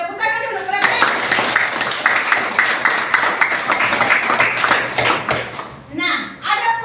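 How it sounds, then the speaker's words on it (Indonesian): A classroom of students claps their hands together in a quick, rhythmic pattern of evenly spaced beats for several seconds, loud and close, with voices briefly heard at the start and end. "Tepuk tangan dulu, keren."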